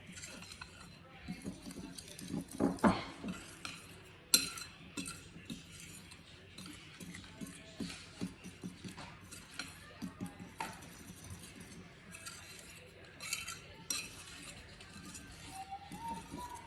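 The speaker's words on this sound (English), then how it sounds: "I have just a fork here. I'm gonna mix it up real good." Banana nut muffin batter is stirred with a fork in a bowl, giving soft, quiet, irregular clinks and scrapes of metal on the bowl over light room noise.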